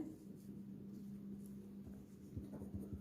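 Hand-written maths solution on paper: faint pen scratching and tapping strokes, quiet and close, with a steady low background hum and no talk.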